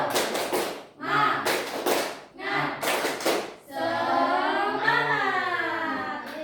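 Primary school class performing a rhythmic spirit clap as a group, with bursts of sharp claps alternating with children chanting loudly together, ending in a long sustained shouted cheer.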